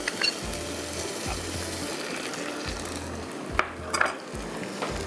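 Butter and a few curry leaves sizzle in a tarka pan with peas while being stirred, making a constant crackling hiss. Low rhythmic thumps and occasional scraping clicks sit beneath it, with no voice.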